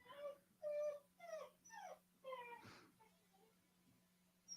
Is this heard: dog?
yes